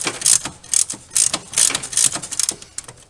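A ratchet loosens the nuts on a VW Golf mk4 fan control module. It gives quick, close metallic clicking in rhythmic bursts, about seven strokes in three seconds.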